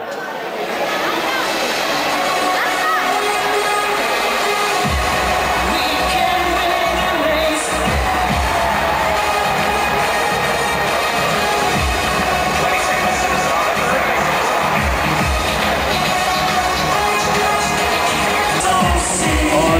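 Crowd cheering and applause at a Hobby World Championship award ceremony in Saalbach, Austria, a dense, loud, continuous roar of clapping and shouting with an announcer's voice over it.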